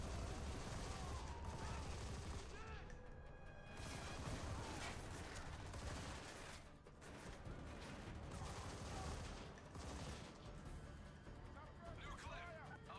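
Dense bursts of gunfire in the video game Army of Two: The 40th Day crackle continuously through a combat scene, with someone talking over the shooting.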